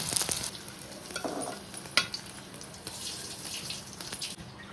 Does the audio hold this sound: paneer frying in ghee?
yes